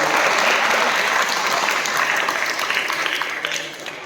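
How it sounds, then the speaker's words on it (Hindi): At a school poetry recitation competition, the audience gives the children a loud round of dense clapping that stays full and then eases off toward the end, with some voices mixed in. "तो मैं चाहता हूँ कि एक बार जोरदार तालियां बच्चों के लिए बननी चाहिए।"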